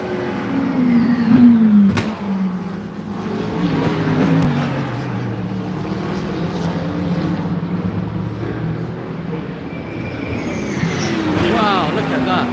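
GT sports cars including McLarens, a BMW M8 Competition and Mercedes GTs lapping Silverstone, engines revving and passing at moderate distance under steady crowd and wind noise, with someone talking over it.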